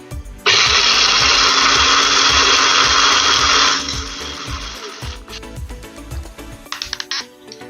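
An electric grinder loudly whirs for about three seconds, pulverizing homemade dry spices with cloves into a paste for chana masala, then runs lighter and rattles briefly before stopping.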